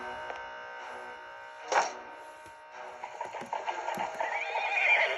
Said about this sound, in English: jumped on his horse and spurred to the road away